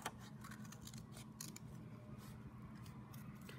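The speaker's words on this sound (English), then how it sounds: "I'm gonna trim this while my paper is folded" Scissors trimming a rainbow shape out of folded paper in a children's craft, a steady soft run of small snipping and rustling sounds, close and quiet, with no talking.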